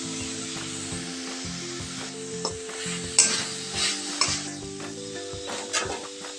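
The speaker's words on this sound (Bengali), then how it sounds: "চিনিটাকে ভালো করে নেড়ে দেব।" Sugar and grated coconut mixture stirred in a hot pan for patisapta pitha filling, a steady sizzle and frying hiss with repeated scraping stirs, close and moderately loud, with faint background music and no talking.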